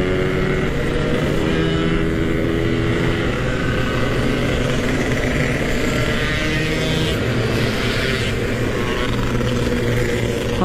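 A Yamaha RX King two-stroke motorcycle runs steadily through the night in Jakarta, its engine droning loud and close without break for the whole stretch.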